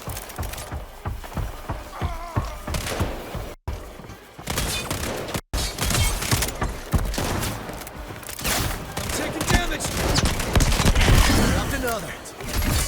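Rapid, dense gunfire rattles through the video game Highguard in repeated bursts over a busy, loud combat mix, with a voice speaking at times.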